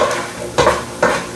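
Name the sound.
scraping the bottom of a Dutch oven while cooking flour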